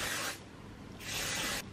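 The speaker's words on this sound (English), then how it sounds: "just spray it on" Hair mist sprayed onto dry hair from a pump bottle: two short hissing bursts, close and fairly loud, separated by a brief pause, with no talking.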